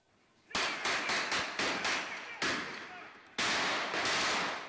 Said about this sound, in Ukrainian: У столиці у хоральній синагозі лунають постріли.